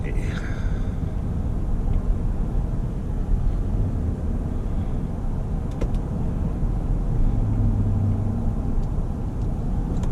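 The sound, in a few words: 2017 GMC Sierra pickup truck accelerating hard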